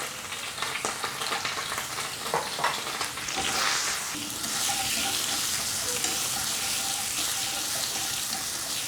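Garlic, ginger, carrots and green pepper stir-frying in a pan over very high heat, a loud continuous sizzle with scraping stirs and clatter that grows into a strong, steady hiss.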